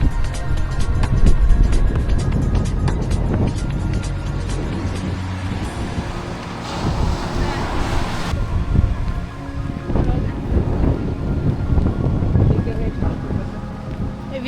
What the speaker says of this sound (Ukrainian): вітер бешений.